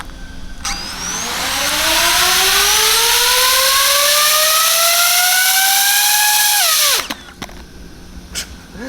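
A DJI FPV drone's motors spin up in turtle mode to flip it upright, a loud rising whine that climbs steadily in pitch for several seconds before cutting off abruptly, followed by light clatter.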